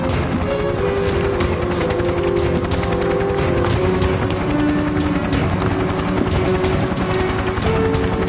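Steady, loud rotor and engine roar of a helicopter running continuously nearby, with a dense whine and droning hum throughout.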